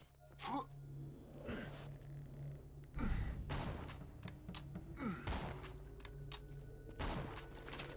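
Sniper rifle shots from the video game Life Zer0 crack out one by one with long gaps between them, a slow rhythm of four or five sharp reports under a low background hum.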